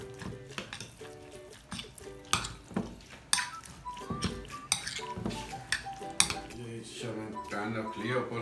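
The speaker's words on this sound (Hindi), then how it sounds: "पैन रख लिया ऊपर, पैन हो गया।" A metal pan is set down on a kitchen stove while a chicken lachha paratha roll is being made, giving clattering knocks and scrapes close by, with a person talking and tonal background sound.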